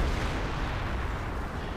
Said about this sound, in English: More artillery fire there.